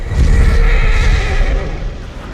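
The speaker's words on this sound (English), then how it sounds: "the god Odin riding his 8-legged horse, Sleipnir" A horse neighing loudly and close, a single drawn-out whinny with a rough, breathy tone over a low rumbling bed, fading slightly toward the end.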